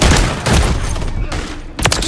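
Heavy automatic gunfire in the video game Modern Warfare 3 rattles in dense, overlapping bursts, loud and close throughout, with a brief lull before a final sharp volley.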